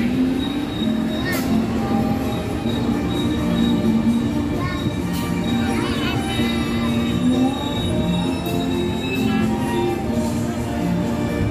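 Carriages of the KA Pasundan train roll along the track near Surabaya Gubeng with a loud, steady rumble, occasional wheel squeals and faint voices in the background.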